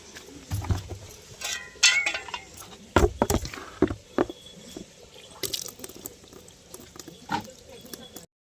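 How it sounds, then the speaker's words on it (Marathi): Water splashes and pours in uneven bursts, sloshing into a cattle trough nearby, with intermittent clanks and brief pauses. "चला आता गुरांना पाणी द्यावायचे पटीत पाणी लावते"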